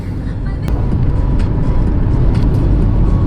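A car cruising at a moderate, steady engine speed of around 2,000 RPM, a constant low rumble of engine and road noise heard from inside the cabin, loud and unbroken.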